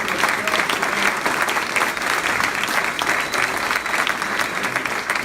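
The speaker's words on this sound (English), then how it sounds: "Can you please give a big round of applause to Mayor Savarino" An audience at a joint town hall meeting with congressmen in a newly completed facility claps steadily and loudly throughout, a dense, sustained round of applause with no pause.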